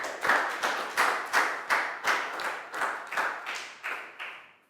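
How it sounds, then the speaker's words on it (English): A classroom group claps in unison during a Year 4 science lesson, about a dozen strong, evenly spaced claps in a steady rhythm, close and clear. "High five and a big round of applause for Pak Bung, guys."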